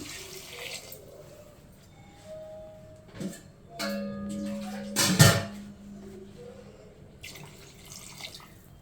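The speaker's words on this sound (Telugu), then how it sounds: "కలుపుకొని దీనికి తగ్గట్టు వాటర్ పోసుకోండి ముక్కలు మునిగేదాకా" Water poured into mutton curry in a pot, with intermittent splashes and a short, louder pour in the middle, plus drips and light clinks, in a quiet kitchen.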